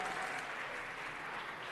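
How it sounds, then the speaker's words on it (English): An audience gives a round of applause at a Jewish Heritage Month event, a dense, steady clapping that fills the short stretch evenly at moderate distance. "big round of applause"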